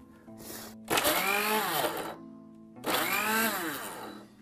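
An electric kitchen mixer, apparently malfunctioning while pumpkin soup is being made, runs in two loud whining bursts. Its motor pitch dips and rises, and there is a brief quiet gap between the runs.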